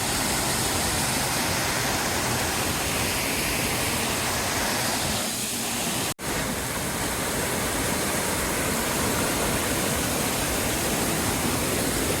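Rushing stream water on a hiking trail in the Sahyadri hills, a steady close broadband roar filling the whole stretch with one brief dropout midway.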